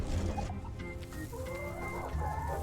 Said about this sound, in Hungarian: Hát de ott a csirke, baszki